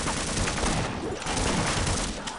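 Automated turret gunfire in the video game Half-Life, a dense, loud, unbroken rattle of rapid shots lasting a couple of seconds with no pauses and no voices.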